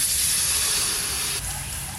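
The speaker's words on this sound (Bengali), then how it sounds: "একটু কড়াইতে জল দিই" A little water goes into a hot wok and sets off a loud, continuous steam hiss and sizzle that fades slightly toward the end, with no voices.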